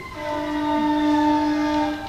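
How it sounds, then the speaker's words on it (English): A train's air horn sounds in one steady, sustained chord that holds loud for about two seconds and then fades slightly. It is heard from a meeting room, apparently from outside, with no speech over it. "You can tell with the air horns"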